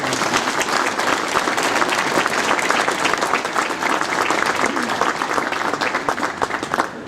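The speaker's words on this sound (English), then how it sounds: "Round of applause please to those." An audience at a train naming ceremony for Southeastern unit 465908 claps for the workshop team, a loud, sustained round of applause from a sizeable crowd that continues evenly without pause.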